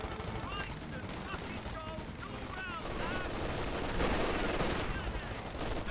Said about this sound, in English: Now there's 3 LMG42s hitting them.